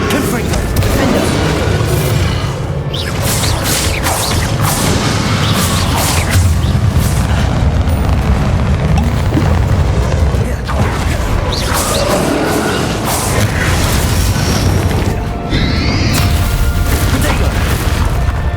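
Confringo blasting spells in the Hogwarts Legacy video game, a steady barrage of loud booming explosions and crashing impacts across a chaotic battle, close and dense, with spell names shouted throughout.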